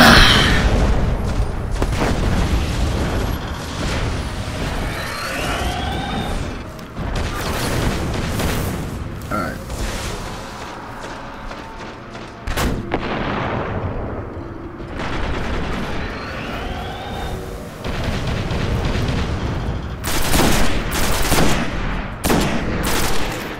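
Heavy gunfire from a firefight against an enemy in the video game Destiny, loud bursts and booming shots clustering in waves throughout, with dense rapid volleys near the end.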